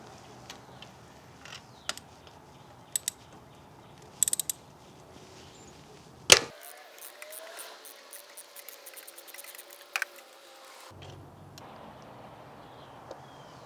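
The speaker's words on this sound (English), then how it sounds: "I will be using a spark plug socket which has an extension, a swivel, and a 5/8 inch end to remove that spark plug." A ratcheting spark plug socket with extension and swivel works a spark plug loose on a 2008 Hyundai Elantra 2.0L, giving faint scattered clicks and metallic ticks, one sharper clack, and a quiet stretch.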